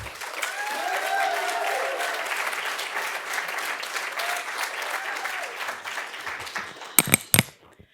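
An audience applauds a reader stepping up to the podium at a writers' conference reading, steady sustained clapping from a crowd in a hall that fades out, with a few louder knocks at the end.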